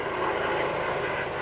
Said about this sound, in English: Choppers have been circling a while.